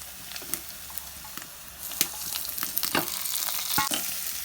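Small onion pieces frying in a pan for a goat kuruma curry, a soft sizzle that grows fuller halfway through, punctuated by sharp spatula clicks and scrapes, close with no talking.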